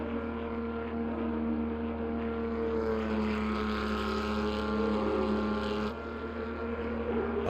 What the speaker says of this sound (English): I love the sound of that engine though, it sounds so good.